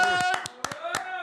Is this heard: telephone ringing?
no